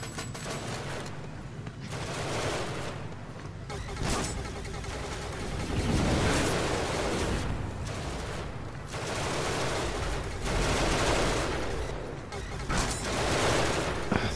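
Shotgun blasts in the video game Genesis Alpha One, heavy booming shots repeating in an irregular burst amid game noise, with a voice talking over parts of it.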